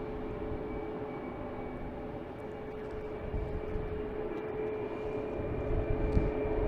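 A Lufthansa airliner flies past near Logan airport, a steady distant jet engine roar that grows slightly louder toward the end, with no talking.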